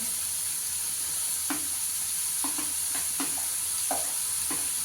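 Garlic and onion fry in oil for an okra curry, giving a constant bright hiss punctuated by about half a dozen soft stirring knocks, close by and without speech.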